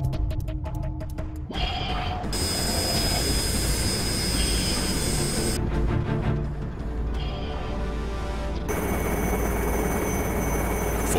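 An Indian Army helicopter flies past with a loud, continuous rotor and turbine roar. The sound holds steady throughout, with shifting high whine tones and abrupt changes in texture.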